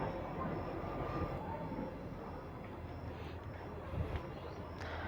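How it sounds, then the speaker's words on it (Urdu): A passing train produces a steady, loud, broadband rumble and roar that fills the whole stretch and holds fairly even throughout, with no clear pauses. "ریل گاڑی گزر رہی تھی جس کی وجہ سے شور آ رہا تھا"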